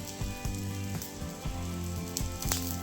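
Thick bun dosa batter sizzles in oil in a pan, a quiet steady crackle broken by regular rhythmic thumps, with no talking.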